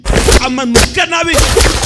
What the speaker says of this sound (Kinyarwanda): bamukurikiza amasasu umusore ararashwe